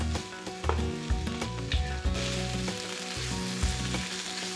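Butter sizzling in a frying pan while making a cheesesteak sauce with Worcestershire, a steady crackle running under loud background music throughout.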